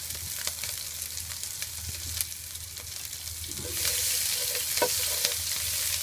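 Shredded cabbage stir-fried in a hot pan for yakisoba, a steady close sizzle with scraping stirs, growing louder and hissier after a fresh addition hits the oil about two-thirds through.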